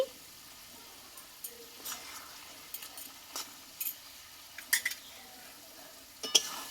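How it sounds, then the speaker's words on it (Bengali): A spoon stirs thor, a banana stem curry, with garam masala and ghee in a pan, giving a faint continuous sizzle broken by sporadic scraping clinks of metal against the pot, close by. "গরম মশলা ঘিটা দিয়ে আমি আরও কিছুক্ষণ একটু নাড়াচাড়া করে নেব"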